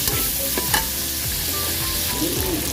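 Green beans stir-fry with pork belly and tomato in a hot pan, giving a steady loud sizzle broken by repeated scraping stirs of the spatula, with no talking.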